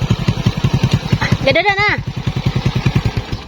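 A motorcycle engine idles close by with a steady, rapid thumping pulse, while a person speaks briefly over it.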